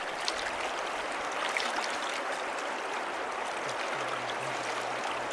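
A winter river in north central Washington flows in a steady, dense rush of water with constant broadband noise and no pauses, close and moderately loud, with a faint low hum late on.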